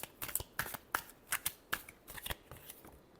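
Tarot cards are shuffled in a fast series of crisp riffling snaps and flutters, about a dozen distinct bursts in quick rhythm, close and fairly quiet with no talking.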